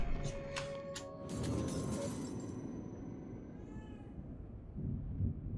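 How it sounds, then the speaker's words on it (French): A cat meows in The Evil Within 2 video game, a few short bright calls early on, then fading into a low rumbling ambient hum, soft and somewhat distant with no speech. "je vais revoir le chat"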